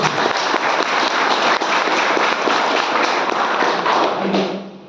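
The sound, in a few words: audience applause at a talk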